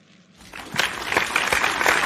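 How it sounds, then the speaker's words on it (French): A church congregation breaks into applause, rising from near quiet into a growing wash of clapping hands that swells and holds over about two seconds. "Applaudissez"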